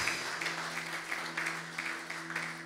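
A church congregation claps together during a Sunday worship service, a faint, steady, rhythmic clapping that repeats about twice a second over a low electrical hum.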